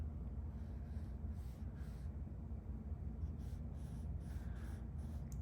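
A pencil drawing on paper, faint repeated scratchy strokes in short bursts over a steady low background hum, quiet and close.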